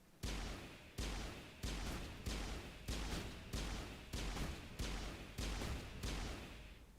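A pistol in Mass Effect fires ten evenly spaced, loud, sharp shots in a steady rhythm, each with a short decaying tail, with no one talking.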